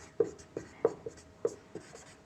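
A pen or chalk writes out a maths equation in a series of short, crisp scratching strokes, close and quiet, with brief pauses between marks.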